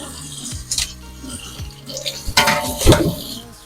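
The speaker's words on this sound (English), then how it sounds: "got to get the hot water coming up" Hot water runs from a kitchen tap during home carrot canning, splashing irregularly while dishes and utensils clatter nearby in close, uneven bursts.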